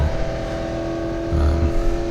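Race car engine holding steady at full throttle in a racing video game, a loud continuous drone with a brief swell near the end, no voices over it.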